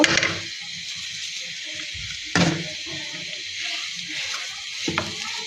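Fish mixed with boiled potato, ginger and garlic paste fries in a pan, giving a soft, steady sizzle close by with brief scraping stirs and a couple of louder crackling bursts.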